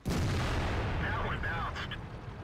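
A tank gun in the World of Tanks video game fires a shell that strikes enemy armor, a loud booming blast with a long rumbling tail and a faint metallic ring, close and heavy.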